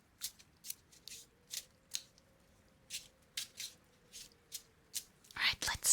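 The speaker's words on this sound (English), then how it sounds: "I can't shuffle cards very well, so I'm doing it off screen." Playing cards shuffled off to one side: a series of soft, crisp riffling bursts in an uneven rhythm, close but quiet, with a faint hum underneath and a louder flurry at the end.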